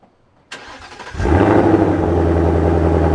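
A Ford Mustang with newly installed loud mufflers starts with a sharp crank after a moment of quiet, then settles into a deep, loud, rumbling run that swells briefly as it revs, close by with no talk.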